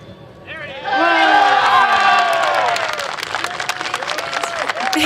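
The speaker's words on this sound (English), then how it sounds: "Big cheers from the crowd as they successfully attach to that piece." Crowd cheering and applauding at the Australian Rover Challenge, a student rover competition, swelling after a second and holding loud and dense, with whoops and shouts over steady clapping.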